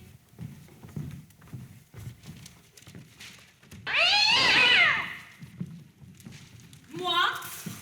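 A cat lets out a loud, drawn-out meow at close range, then a second shorter meow follows, both breaking in over a quiet background.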